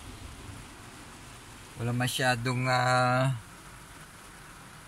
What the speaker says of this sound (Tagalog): Pero maulan ngayon, no?